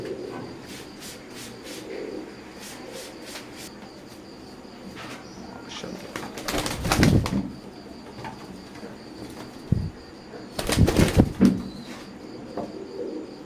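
Soft pigeon cooing murmurs in a quiet space, broken by two loud, close bursts of wings flapping.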